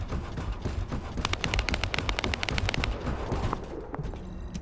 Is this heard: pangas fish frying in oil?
no